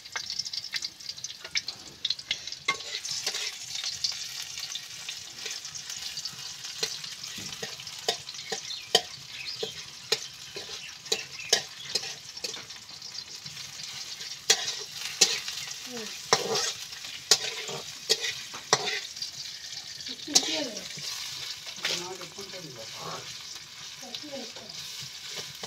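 Onion, cinnamon, a clove and cardamom sizzle in hot oil as they are stirred, a steady close crackle with repeated scraping stir strokes throughout.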